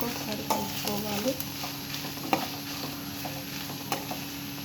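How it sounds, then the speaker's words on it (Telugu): Onions and coriander being stirred in a sizzling egg curry pan, a steady fry hiss with scraping spoon strokes and occasional clinks, close and moderately quiet. "ఆనియన్స్ వేసుకున్నాక ఒకసారి కలుపుకోవాలి"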